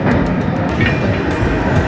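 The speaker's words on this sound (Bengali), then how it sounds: "ঝড়ের গতিতে উঠে চলেছে আমাদের এই তাম্রলিপ্ত এক্সপ্রেস।" The Tamralipta Express runs at full speed, near its 110 km/h maximum, with a loud, continuous rumble and a steady wheel clatter heard from on board, with no voices.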